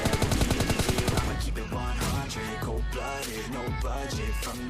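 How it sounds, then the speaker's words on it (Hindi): Rapid automatic gunfire in the video game PUBG Lite, with a fast machine-gun burst of evenly spaced shots followed by heavier, irregular bursts and booming reports, loud and continuous. "इसलिए मैं यहाँ पे थोड़ा फ्री फायर देता हूँ ताकि वो बंदा उसे मारे नहीं"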